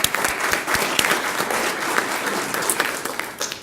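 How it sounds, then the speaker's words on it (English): Warm, steady applause from the audience at a school governing board meeting honors Captain Camella, a close, busy patter of many hands clapping with a few sharper claps standing out. "So if we could give Captain Camella a big round of applause"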